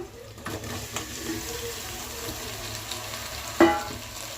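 Goat head pieces sizzle with onions in a pan, a soft steady frying hiss with faint stirring, ending in a short sharp clank near the end.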